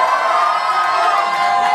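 An audience at a small group night gathering cheers and shouts in one steady, dense roar of many voices throughout.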